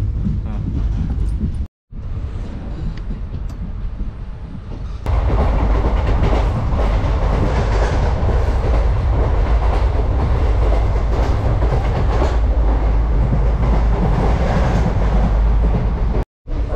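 Moving passenger train, the Madgaon Special 06602, with steady loud clickety-clack and rumble filling the interior, a brief dropout near the start, then a louder sustained roar of wheels on rails.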